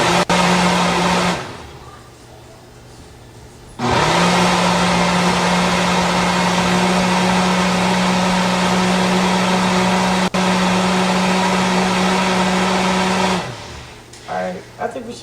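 A blender grinding dates into a thick, ice-cream-like mix, running in two loud, steady whirring bursts with a short quieter pause between, close by.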